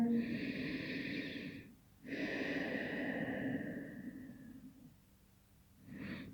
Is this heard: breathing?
yes